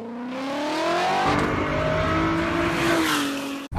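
A car exhaust revs up and holds high, engine pitch climbing and sliding across several seconds, loud and close, captured on an iPhone with a headphone-set microphone, no talking.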